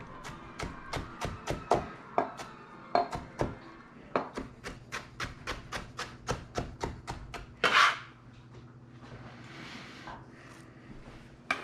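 Serrano peppers are chopped with a knife on a board in a home kitchen, a quick series of crisp, close taps in irregular runs, with a louder scrape partway through.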